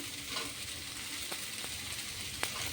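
Potatoes sizzle in a pan as eggplant goes in, a soft continuous frying hiss with a few light stirring clicks.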